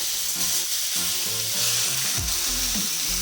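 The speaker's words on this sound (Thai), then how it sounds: "ก็ผัดเลย ผัดให้มันสุกนะฮะ" About 700 grams of pork tenderloin stir-fries in hot oil in a pan, giving a loud, steady sizzle with scraping stirring strokes over it, close up and without talking.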